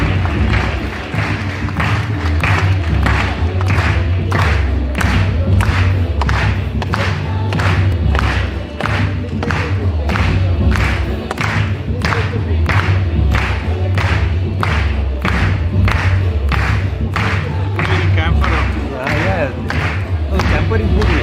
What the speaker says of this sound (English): Let's keep clapping with the beats and let's keep the music on